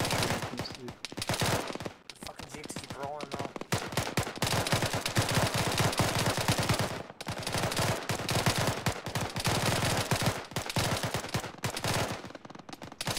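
Sustained automatic gunfire rakes a Jeep in the ArmA military game, loud and close in long rattling bursts with brief pauses, and voices are mixed in among the shots.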